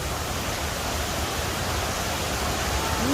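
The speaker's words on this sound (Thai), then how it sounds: "กำลังจะถึง ม่านน้ำตกธรรมชาติ ที่เกิดขึ้นเอง" A natural curtain waterfall in the rainy season, swollen with heavy flow, gives a dense, even rushing hiss that stays constant and fairly soft throughout.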